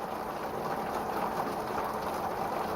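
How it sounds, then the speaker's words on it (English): Steady rain falls on a Saturday evening in June, a dense, even hiss with no breaks or voices, moderately loud throughout. "And now you can enjoy some rain from Saturday"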